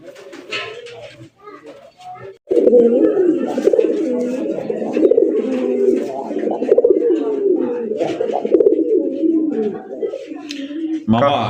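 Two fancy racer pigeons coo close by in a steady, throaty run of rolling calls lasting most of the stretch, after a quieter start with a brief pause, with some voices around them.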